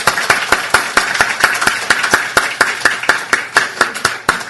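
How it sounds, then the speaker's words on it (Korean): A church congregation at a Sunday morning service applauding the choir, a brisk, steady, evenly spaced clapping close by, with no voices over it. "박수 한번 하겠습니다."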